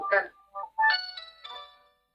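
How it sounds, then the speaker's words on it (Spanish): A mobile phone ringtone chimes during a classroom English lesson, a short stepped melody of clear tones following brief voice sounds. "A alguien le suena el teléfono ahí parece."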